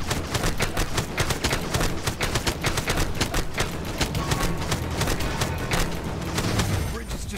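Rapid turret gunfire rattles through a Lego Marvel Avengers video game level, dense overlapping bursts and booms running loud and continuous with game voices talking over the barrage.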